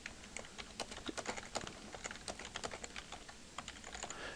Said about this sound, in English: I'm going to type in the question.